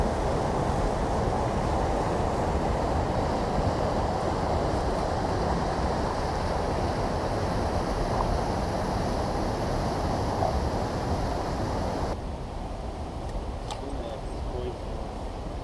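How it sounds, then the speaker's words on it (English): Horse Race Rapids on a Michigan river rush in a steady, loud broadband roar of churning water, unbroken from start to finish and close by, with a slight drop in level near the end. "And another beautiful river in the state of Michigan."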